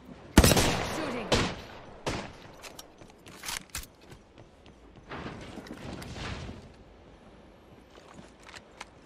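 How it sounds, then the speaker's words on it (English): Gunfire in the Apex Legends video game: a loud opening burst followed by scattered shots and rapid volleys of varying strength over about nine seconds, with softer game effects between them. "Shooting."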